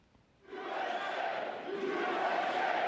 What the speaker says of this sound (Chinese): 支持者大声喊美国